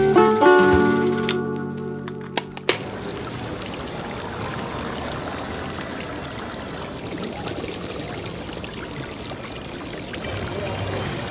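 A drinking fountain runs steadily, a close, continuous splash of pouring water that takes over after a brief burst of louder sound at the start.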